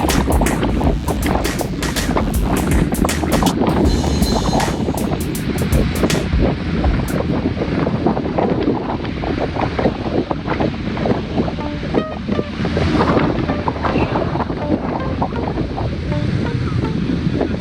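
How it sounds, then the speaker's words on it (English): Strong wind buffeting the microphone on an outdoor group bike ride along Mount Pleasant Road, a loud, continuous rushing roar with no talk. "we have the wind coming from the east, which is to our right"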